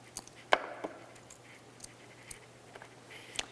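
A knife chops onion on a board while Korean cucumber salad is made: a few sharp, separate cuts, the loudest near the start, then lighter taps spaced out over a quiet background.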